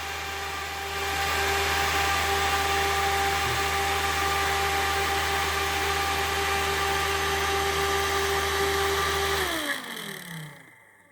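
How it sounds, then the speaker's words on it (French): An electric radiator cooling fan from a Majesty 125 scooter runs as a loud steady whirring drone, then cuts off near the end and winds down to quiet. "c'est un ventilateur que j'avais eu avec le radiateur de Majesty 125"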